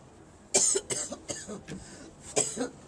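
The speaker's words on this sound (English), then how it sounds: "Oh, I'm just coughing." A few short, sharp coughs in a quick cluster, then a pause and two more coughs, close and fairly loud over a quiet background.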